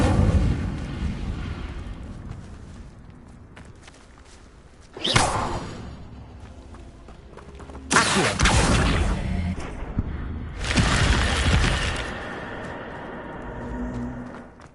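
Incendio fire spell from the Hogwarts Legacy video game: a sudden whooshing flare of flame at about five seconds, then two longer roaring fiery bursts, loud and close over a low game ambience.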